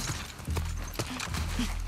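Rapid thudding hoofbeats of a galloping horse in the video game The Last of Us Part II, rhythmic and close, with low snorts mixed in.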